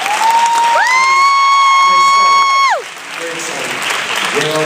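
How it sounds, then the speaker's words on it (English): Audience applause at a gospel concert, a loud, steady wash of clapping and crowd noise that carries throughout, with a sustained gliding musical tone over it that fades near the end. "Can we please give another round of applause?"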